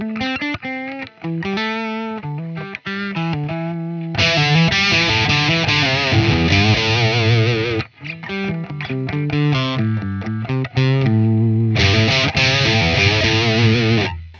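Distorted electric guitar played through a Celestion Plus digital impulse response, dense heavy riffing with chugging palm-muted passages and sustained chords, loud and upfront with no talking.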